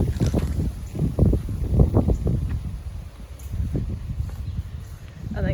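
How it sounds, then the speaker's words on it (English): Gusty wind blowing outdoors on a farm, heavy low rumbling buffeting against the microphone throughout, loud and continuous with surges and lulls, with a faint voice at times. "windy today, sorry about that."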